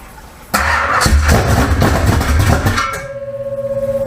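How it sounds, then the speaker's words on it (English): A 468 big-block Chevy V8 in a 1968 Camaro cranks briefly, then fires up loud and close, running rough for a couple of seconds before dropping into an uneven, pulsing idle. "Do the ignition. I'll try to start it."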